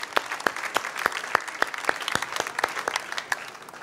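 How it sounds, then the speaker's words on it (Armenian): An audience applauds after a folk ashugh song, a steady patter of clapping hands with a few distinct sharp claps standing out, close and lively. "եկեք ծափարում ենք բոլորս"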